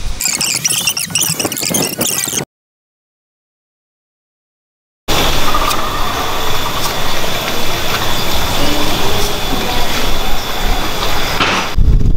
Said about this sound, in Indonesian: motor pada tahun 80-an itu pasti punya efek pecah-pecah seperti ini